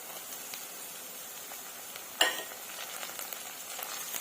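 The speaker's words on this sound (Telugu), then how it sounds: "ఇవి కూడా బాగా ఫ్రై చేసుకుందామండి ఆయిల్లో" Onions, curry leaves and tomatoes fry in oil for an egg curry, a faint, quiet sizzle with a sudden louder sputter midway as ingredients hit the pan, then light crackling.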